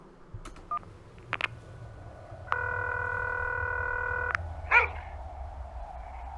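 Phone dialing in a video game: several short keypad tones, then a steady dial-tone-like sustained tone of about two seconds, then a brief chirp, all over a low background hum.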